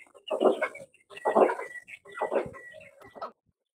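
Chickens at a village home squabble and fight after feeding, giving three or four bursts of loud, close clucking and squawking with short pauses between.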